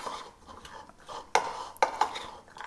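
Sweet bread ball ingredients being mixed in a bowl, with soft scraping and stirring punctuated by a few sharp clinks of a utensil against the bowl, quiet and close.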